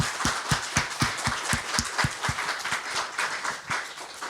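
A group applauds a visiting regional chapter at a church men's fellowship Tuesday prayer meeting, with a rhythmic unison clapping pattern underneath a wash of scattered applause, fairly moderate in level and indoors.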